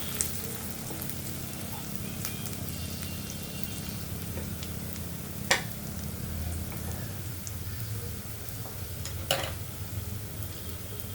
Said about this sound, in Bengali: এরপর সামান্য একটু জিরে দিব।